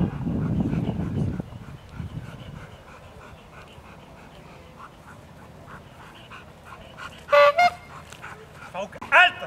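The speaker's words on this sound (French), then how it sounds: "Le résistant essaye de repousser le chien." A training demonstration: a dog attacks a man in a protective suit who tries to push it back, with scuffling and muffled struggle, then a few sharp barks and yips near the end.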